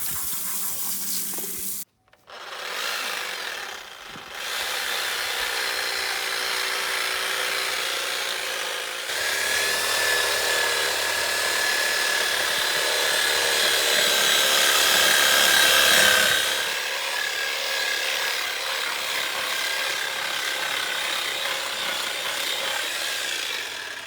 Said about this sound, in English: get out the reciprocating saw and cut the thing in half